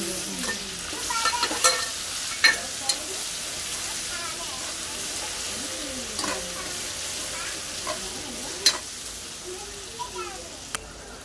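Ginger-garlic paste and chilies frying in a pan, a steady close hiss of sizzling with occasional light scrapes from stirring, while a voice talks over it.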